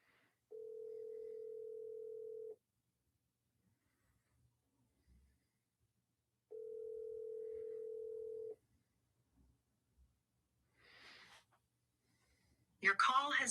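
Outgoing phone call ringing out while waiting for an answer: two steady ringback tones about two seconds long and four seconds apart, clear against near silence, followed by faint rustling and the start of a recorded voice.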